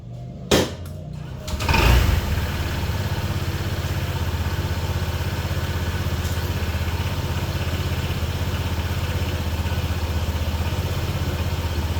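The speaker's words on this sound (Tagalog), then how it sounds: "Start natin yung motor ng 3 to 5 minutes para mag-circulate yung mga langis na nilagay natin." A Honda ADV 160 scooter engine starts with a brief clatter, then settles into a steady, close idle that runs unbroken with no talk over it.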